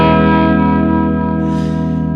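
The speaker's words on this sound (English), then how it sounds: "So the fuzz is on right now, but because the guitar volume is at 3, it gives you this very clean bell-like, but also fat sound." Electric guitar through a fuzz pedal with the guitar's volume knob rolled back to 3, one sustained clean, bell-like chord ringing out loudly and fading slowly.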